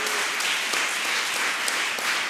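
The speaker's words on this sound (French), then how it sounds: "Donc ça vaut bien quelques applaudissements." Brief audience applause for a boxing champion at a sport and leadership round-table, a steady, even patter of many hands over a couple of seconds.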